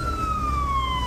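A firefighters' truck siren in Baguio City's Central Business District wails in a long falling tone over a low street rumble, loud and close during a market complex fire.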